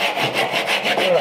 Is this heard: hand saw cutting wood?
yes